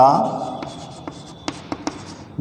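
Chalk or marker scratching on a board during a chemistry lesson: a brief voice at the start, then a string of sharp taps and short scraping strokes, close and fairly crisp.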